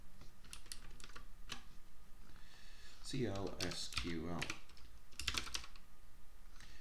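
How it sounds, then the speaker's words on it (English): Computer keyboard typing in a code editor while setting up Common Lisp, rapid clicky keystrokes in short bursts, close and moderately loud, with someone talking over parts of it. "And just by typing here in the editor,"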